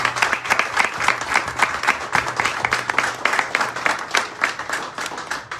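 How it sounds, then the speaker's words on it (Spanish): A crowd applauds steadily, many hands clapping in a dense, lively patter that continues throughout at a strong, even level. "Vale, un aplauso para ella."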